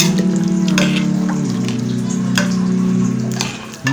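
Nihari with yakhni simmers and sizzles in a pot, a loud, steady bubbling fry with a constant low hum and scattered ticks and pops. Near the end comes a brief scrape of stirring, and no one speaks.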